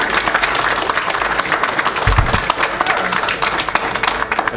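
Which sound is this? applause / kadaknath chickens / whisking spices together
applause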